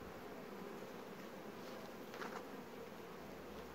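Honeybees swarm around opened beehive frames with uncapped cells, giving off a steady, soft, continuous buzz that fills the scene without pause.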